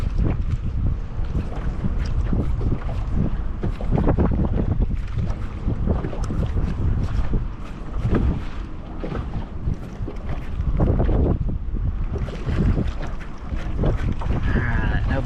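Steady, loud wind buffets the microphone from a fishing boat on Guntersville Lake, a continuous roaring rush with water noise underneath and no pauses.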